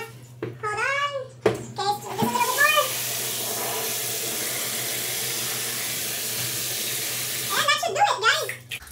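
Tap water pours steadily into a turtle enclosure in a bathroom, a continuous hiss lasting several seconds, with a person talking briefly before and after the flow.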